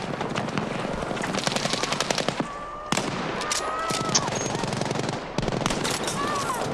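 Rapid bursts of gunfire in the video game Battlefield V crackle loud and close in quick sequences, broken by a few sharp single shots, with a voice briefly audible over the action.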